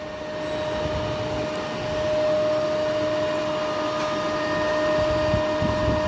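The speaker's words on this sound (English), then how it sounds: "By increasing the value of resistance, the speed of the motor will get raised." An electric motor running at speed during a Swinburne's test hums steadily, with a constant tonal whine over a broad mechanical drone that rises slightly partway through, and no talk.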